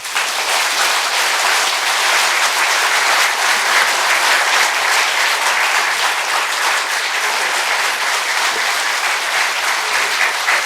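Steady, loud applause from a large audience after a keynote speech at a political forum, dense clapping that holds evenly throughout with no one speaking.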